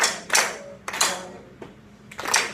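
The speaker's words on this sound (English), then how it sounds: "it looks like we're all clapping the rhythm" A group claps a counted rhythm together in a classroom, with three or four sharp bursts of claps spaced irregularly and a faint tap between them, close and moderately loud with no talking.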